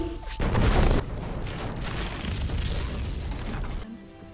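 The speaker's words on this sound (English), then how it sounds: "This is gonna explode." A loud explosion bursts out in a pirate adventure film, a heavy boom with a dense, roaring wash of blast and debris noise that sustains for several seconds before cutting off.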